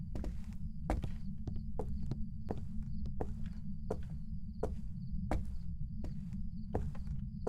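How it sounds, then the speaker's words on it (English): Footsteps in the Phasmophobia video game thud on a wooden floor in a steady walking rhythm, about a dozen close, distinct steps over a low constant background hum, with no talk. "Thought I heard footsteps."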